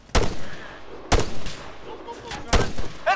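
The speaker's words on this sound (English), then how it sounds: "Enemy fire!" Enemy gunfire in the Arma 3 video game, with three sharp, loud gunshots at roughly even intervals and a lingering echo after each. A brief voice sound comes at the end.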